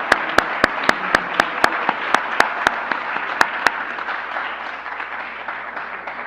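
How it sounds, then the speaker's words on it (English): Applause at a university Three Minute Thesis graduate competition, a soft wash of clapping from the audience with a handful of sharp, close individual claps standing out in an uneven rhythm, fading slightly toward the end. "join me in a round of applause to all of our graduate students"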